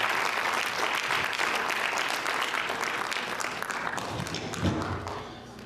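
A big round of audience applause for volunteers at a Diwali community event, dense steady clapping that fades slightly toward the end, with faint crowd murmur beneath.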